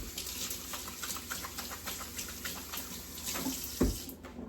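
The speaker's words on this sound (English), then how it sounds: "Let me rinse my hands off." Hands rinsed under a running kitchen tap while ground turkey is prepared, giving a steady splashing water stream throughout with a brief clatter near the end, fairly quiet and close, without talk.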